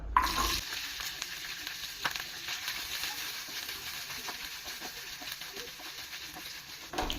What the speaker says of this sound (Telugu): నెయ్యి వేసుకుందాం. పచ్చి కొబ్బరి వేసి వేయించుకుందాం.